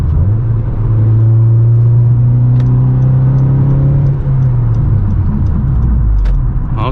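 A 9th-generation Honda Civic Si fitted with an Acuity cold air intake holds a loud, steady engine drone, then the pitch drops after a few seconds. One brief word is spoken.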